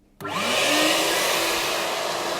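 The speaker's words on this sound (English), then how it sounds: "So let me turn the water pump on. It's got a pressure switch on that one, so it just comes on and stops. And the vacuum motor." An Ashbys heated Spot Master carpet and upholstery cleaner starts up as its water pump and vacuum motor switch on together, jumping from near silence into a loud, steady whine and airy roar that holds without a break.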